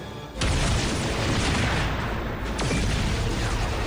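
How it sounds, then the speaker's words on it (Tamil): A loud explosion bursts open in a Power Rangers episode, followed by sustained rumbling blasts and debris roar, with a second sharp crack partway through. "இங்க எல்லாமே வெடிச்சு சிதறிட்டு இருக்கு"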